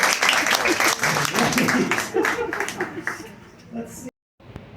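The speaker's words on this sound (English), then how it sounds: "Give her a big round of applause!" An audience at a live show in Gatlinburg breaks into a dense round of applause that thins out over a few seconds, with voices over the clapping and a brief cut to near silence.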